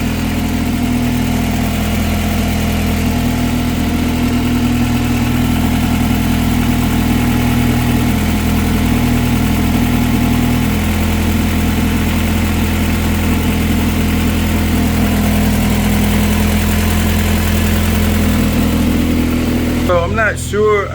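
Freshly rebuilt Honda H23A VTEC four-cylinder engine idling: a loud, steady, even rumble that runs unbroken throughout, with a short burst of noise at the very end.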